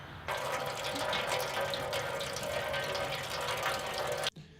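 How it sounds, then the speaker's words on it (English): Coolant pours steadily out of a Pontiac Sunfire's radiator, a continuous hissing, splashing stream that starts abruptly, runs evenly for about four seconds, then cuts off sharply. "We should drain the radiator."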